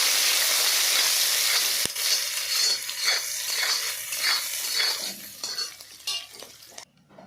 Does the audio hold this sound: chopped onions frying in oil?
yes